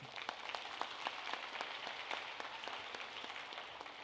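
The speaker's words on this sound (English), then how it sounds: "So we'd like to give them a round of applause." Audience round of applause at a school district State of the District event, steady even clapping throughout, faint and distant.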